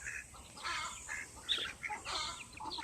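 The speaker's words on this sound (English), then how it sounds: "That's the mama hen over there." A mother hen clucks close by in a quick, uneven series of short calls with no talking.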